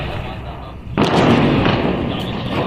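A Diwali firecracker bomb bursts with a sudden loud bang about a second in, leaving a broad crackling roar that lingers, with faint voices in the background.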